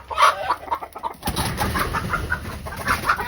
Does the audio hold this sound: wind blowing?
no